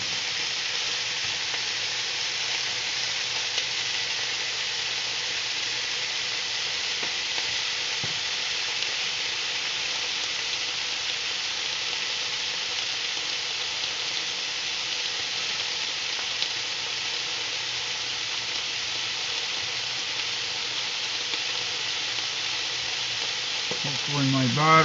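Pork chops frying in a pan make a constant, even sizzle and crackle that holds steady for about twenty-five seconds, close up and with no talking.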